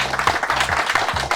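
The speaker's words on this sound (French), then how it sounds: "On peut les applaudir parce qu'ils sont derrière les caméras." Audience applause at a live event honouring the founder of the Zouk Machine group, a dense steady wash of many clapping hands throughout, fairly loud and without pause.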